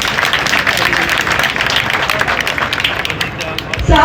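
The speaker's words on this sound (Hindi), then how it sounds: "एक बार आप अपने लिए जोरदार ताली बजाएं" A large crowd at a Delhi public event for a service centre inauguration claps steadily and loudly, a dense continuous applause with crowd murmur, rising slightly at the end.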